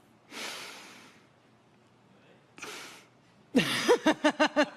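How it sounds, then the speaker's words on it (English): A person draws one long, audible breath in, then a shorter one, followed by a quick string of rhythmic voiced huffs close to the mic. "All right, first, deep breath."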